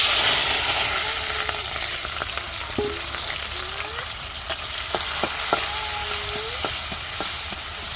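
Oil sizzles and fries steadily in a cooking pan in a home kitchen, a broad close hiss with scattered pops and faint tonal squeaks over it.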